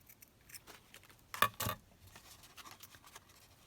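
Scissors cutting paper in a quiet room: a few faint snips, then two sharper crisp cuts close by, with light rustling between them.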